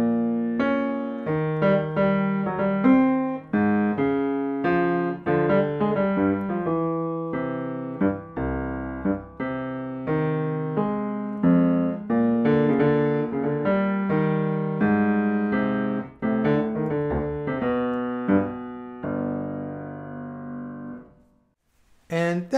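Solo jazz piano played contrapuntally, with a walking bass line under a melody in the upper register. Close and continuous, with a brief drop near the end before the playing resumes.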